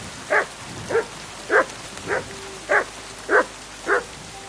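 A dog in a PS5 video game barks seven times at an even, unhurried rhythm, each bark short and clear, sounding close over a faint background hum.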